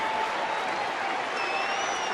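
A lively crowd of about 21,000 at a baseball game, Cleveland at Chicago, cheers and applauds in a sustained, dense roar filling the stadium.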